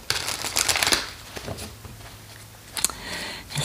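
Tarot cards being shuffled by hand, a dense papery riffle and slap that is loud at first, thins out, then returns in a short burst near the end, with no talking.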